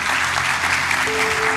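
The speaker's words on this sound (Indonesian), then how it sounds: "Berikan tepuk tangan buat Tuhan." Church congregation applauding during an Indonesian sermon, a dense, steady wash of many hands clapping that fills the whole moment, with a faint sustained tone rising underneath toward the end.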